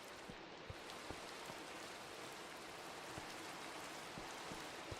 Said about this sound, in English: We've got the rain coming in just in this section here.